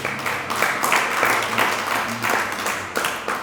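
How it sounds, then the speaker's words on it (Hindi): A crowd claps together in a sustained burst of applause, fairly close and loud, with uneven surges of hand claps over about three and a half seconds and no voices on top. "अब बजा लो ताली"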